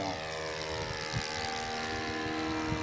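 A model RC airplane engine roars at full power in a steady, high-pitched sustained drone with a buzzing propeller tone, heard continuously from a moderate distance without talk.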